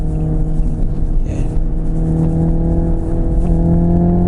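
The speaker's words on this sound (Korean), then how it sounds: "배기음은 그냥 내연기관 M 모델을 주행할 때 느꼈던 그 배기음과" Synthetic virtual exhaust of a Hyundai Ioniq 5 N electric performance car under acceleration, a steady loud droning engine-like rumble with layered tones, continuous throughout without talk.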